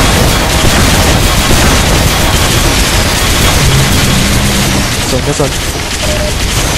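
Guns firing to break open the tank in a Team Fortress 2 Mann vs Machine round, with dense booming blasts and bursts of gunfire running throughout under a talking voice.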